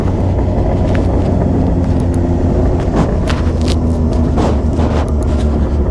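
Yamaha XJ6 motorcycle fitted with a G-Escape aftermarket muffler, its exhaust rumbling loud and close with a deep steady idle and a few brief revs, no talking.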